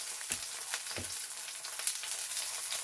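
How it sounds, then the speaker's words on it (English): Butter sizzling in a pan alongside a steak, a constant close hiss with a few soft taps from the pan. "And add some butter."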